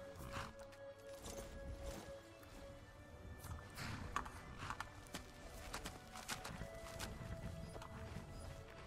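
Horse hooves clip-clop in Skyrim Special Edition, a soft, uneven run of close steps over a low background bed.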